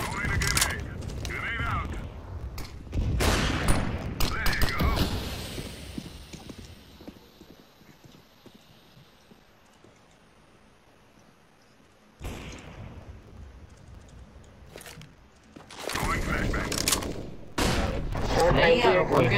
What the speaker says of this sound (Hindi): Kira fire the whole